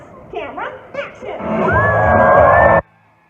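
Audience at a Universal Studios animal actors show breaks into loud, sustained cheering and whooping that swells for about a second and a half before cutting off abruptly, after a few brief shouts.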